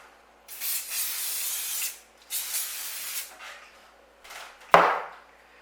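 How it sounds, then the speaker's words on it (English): Two long hissing bursts of cooking spray into a pie maker, then a few shorter puffs, ending with a sharp knock as something is set down. "And a little bit of spray."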